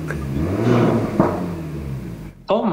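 A Renaultsport Megane RS300 engine revs with a rising and falling drone in race mode, then a sharp exhaust pop near the end, heard close alongside voices.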